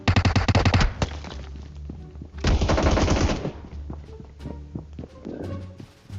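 Automatic gunfire in the video game PUBG Mobile: two loud rapid bursts of shots with a lull between them, followed by scattered footsteps and quieter in-game clatter.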